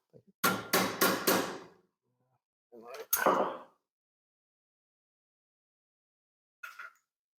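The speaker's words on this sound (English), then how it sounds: "Non-marring hammer." Four quick taps of a non-marring hammer, a pause, then one more sharp knock, followed by a faint tap near the end; crisp and close against silence.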